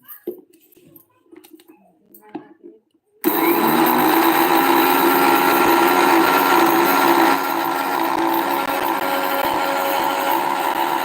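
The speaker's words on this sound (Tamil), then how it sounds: "கொஞ்சம் அரைக்கலாம்" A mixer grinder grinding ingredients in a village kitchen kicks in abruptly after a few seconds of faint scattered sounds, then runs as a loud, continuous whirring roar that drops a little in level partway through.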